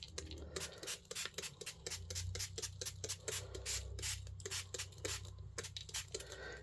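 Water is sprayed onto ink for stamping in a series of short, sharp spritzes, about a dozen quick bursts in an uneven rhythm, faint and close, over a low background hum.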